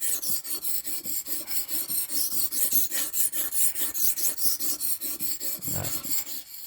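Butter knife blade ground back and forth on a sharpening stone on an uneven workbench, giving a steady rhythmic rasp of about twenty even strokes, close and fairly loud with no talk.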